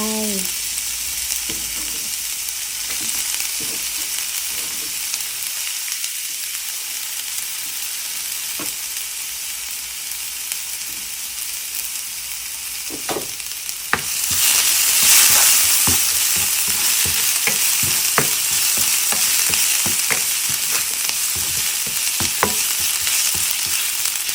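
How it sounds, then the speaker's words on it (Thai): Loud, continuous sizzle of mushrooms stir-frying in hot oil in a pan, with scraping strokes in a steady rhythm that grows louder partway through. "เอาน้ำมันใส่กระทะนิดหน่อยนะคะ เราจะผัดนะคะ"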